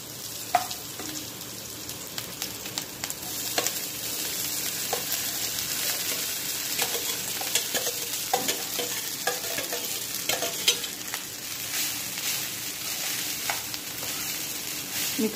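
Cumin seeds and sambar spice powder frying in a pan for jeera rice, giving a steady loud sizzle throughout with occasional stirring scrapes and clinks, no voices.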